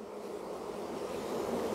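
Honey bees buzzing over an open hive frame during a transfer from a nuc box, a dense, continuous close hum that swells slightly, with no talking.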